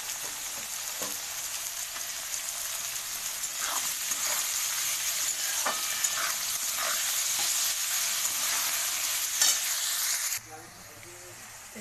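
Chopped cabbage and potatoes fry in hot oil in a wok, giving a steady, close crackling sizzle with scattered sharper pops and stirring scrapes. The sizzle cuts out sharply near the end.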